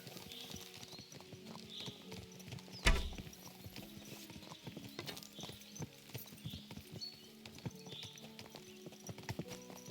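Rhythmic clip-clop of horse hooves at a walking pace in the video game Kingdom Come: Deliverance II, fairly faint, with one louder knock partway through.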